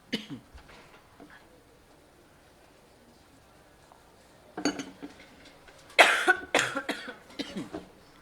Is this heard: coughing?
yes